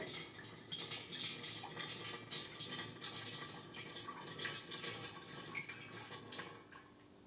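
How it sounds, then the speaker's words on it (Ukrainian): Homemade grape juice pours into a 20-litre bottle in a steady, faint splashing stream that runs continuously throughout. "Переливаємо тепер у 20-літрову це все бутлю."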